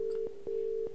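A steady telephone tone hums in a FNAF fan video game, broken by a few faint clicks, in a brief quiet stretch with no talking.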